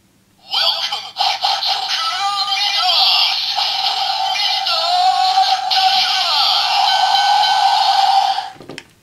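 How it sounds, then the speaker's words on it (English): A DX Kurumi Lock Seed toy on a Genesis Core plays its bonus sound: a loud electronic jingle of voice and music, continuous for about eight seconds before it cuts off, with no one talking over it. "So we can get the bonus sound out of the Kurumi Lock Seed."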